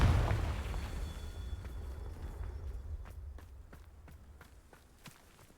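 A Confringo fire-spell explosion in the video game Hogwarts Legacy opens with a loud, booming low blast that slowly rumbles away, and light footsteps tap through the fading tail.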